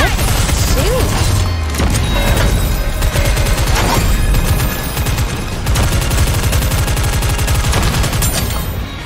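Dense, sustained gunfire from the video game Goddess of Victory: Nikke, rapid overlapping automatic bursts and impacts filling the whole stretch at high volume, with booming hits mixed in.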